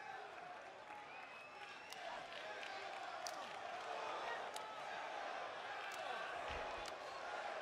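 Wrestling crowd applauding inside a WWE arena, a steady broad wash of clapping and crowd noise filling the whole stretch at fairly low level, with a few sharp slaps standing out.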